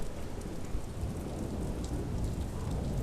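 Steady rain in the countryside pours down in a dense, even hiss, with a low rumble of a thunderstorm rolling underneath throughout, moderately loud and unbroken.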